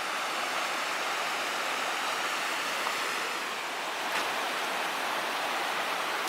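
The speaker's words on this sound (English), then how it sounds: "The river kind of coming toward us, but also sweeping by us, and those rapids in the foreground." Rapids of the Puyallup River rush beneath a bridge in a loud, steady, broadband roar of churning water that fills the whole stretch without pause, with no voices.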